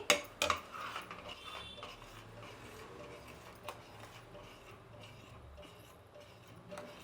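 Semolina (rava) being stirred into boiling water in a pot for pongal, with a few sharp spoon clinks against the metal near the start and soft scraping and bubbling after, faint and close, with no talk.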